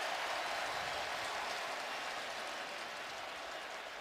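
Stadium crowd at a 49ers at Bills NFL football game, a loud, steady roar of many voices and noise holding level throughout with no distinct words.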